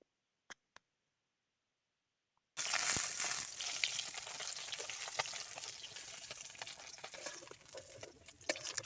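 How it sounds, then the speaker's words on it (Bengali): Fish pieces dropped into hot oil set off a sudden loud, crackling sizzle after a few faint clicks and near silence, then a steady spattering fry continues to the end. "আমি তেল গরম হয়ে গেছিলো তাই আমি দিয়ে দিলাম এক একটি করে। ভালো করে ভেজে নেব মাছগুলো এইরকমভাবে।"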